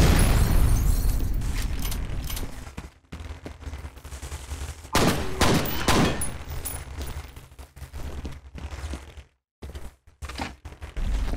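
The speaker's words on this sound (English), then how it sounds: "I just go ahead and shoot that." Gunfire from the video game F.E.A.R. rattles in loud bursts, with booming shots and blasts, short pauses and a near-silent gap before firing resumes.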